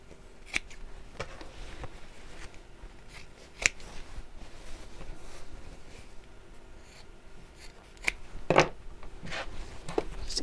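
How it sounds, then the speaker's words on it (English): Scissors snip through fabric at a quiet sewing table, a few sharp, separate cuts spaced out over a low, steady background with soft handling noises between them. "And then we'll snip across."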